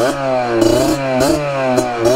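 A moped engine out in the woods revs repeatedly, rising and falling in pitch several times, with a buzzing, raspy tone that comes through loud and near and has no talking over it.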